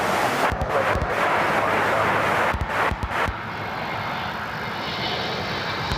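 A Southwest jet airliner at Cleveland Hopkins airport gives off a loud, steady engine roar as it taxis, with a few dull thumps in the first half before the drone settles and continues alone.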